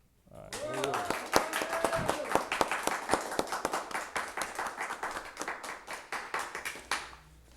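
An audience bursts into applause after a reading at a political study gathering, a dense burst of handclaps that starts abruptly, holds steady, and thins toward the end.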